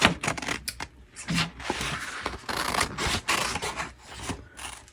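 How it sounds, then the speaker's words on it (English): Scissors snip and rasp through sublimation paper close up in a string of quick, irregular cuts with short pauses between them. "get my sloppy scissor work here"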